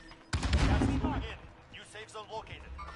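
Warzone gunfire bursts out loud and close, a dense volley of shots followed by scattered smaller pops, with players talking over the combat.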